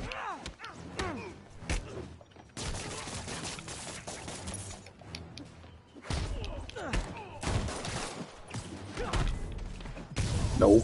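Enemies in a Spider-Man video game fire bursts of gunfire mixed with thumps and impacts during a chaotic fight, with sustained crackling volleys recurring throughout and a voice talking over parts of it.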